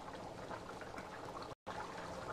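A pan of Rangoon val (lima bean) curry bubbles at a steady simmer, its dense continuous boiling and popping close and moderately loud, with one very brief dropout near the end.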